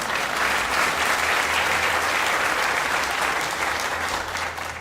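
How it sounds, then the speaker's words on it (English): Sustained applause from an audience at a ribbon-cutting ceremony for the Buffalo AKG expansion, a steady dense wash of clapping that holds for about five seconds and tapers slightly at the end. "And you can clap for them as well"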